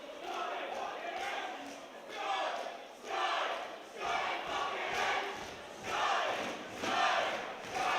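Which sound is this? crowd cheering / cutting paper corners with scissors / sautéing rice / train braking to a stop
crowd cheering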